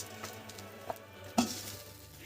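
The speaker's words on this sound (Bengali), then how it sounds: "আলুটা পেঁয়াজের সাথে একসাথে কিছুক্ষণ ধরে ভেজে নেব।" Potato pieces frying with onions in a pan, a steady soft sizzle close by with a couple of light stirring knocks.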